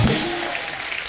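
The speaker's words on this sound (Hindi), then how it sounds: "अनुपम सर के लिए जोरदार ताली हो जाए" A studio audience on a comedy talk show bursts into a short, loud round of clapping that fades slightly over about a second.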